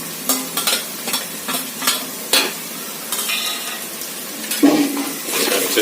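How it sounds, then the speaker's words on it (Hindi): Onion, garlic and masala stirred and frying in a pan for dhaba-style moong dal tadka: repeated scraping strokes of the spoon over a soft, steady sizzle, close and moderately loud. "अच्छे से मिक्स करते रहना है हमको"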